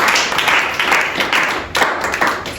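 Worshippers in a church applaud for the Lord at a French-language Sunday service, a loud, continuous burst of clapping from many people, rising and falling in brief waves.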